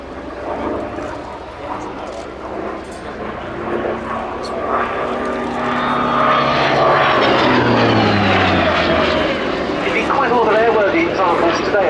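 A Hawker Sea Fury T Mk.20 with its Bristol Centaurus radial engine passes overhead, a loud propeller drone swelling and shifting in pitch as it flies by, with someone talking over it.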